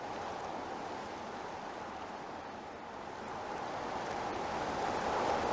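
A synthesized wind sound in Unreal Engine MetaSound blows as a steady, fairly soft broadband rush that swells slightly louder toward the end, heard alone without talk.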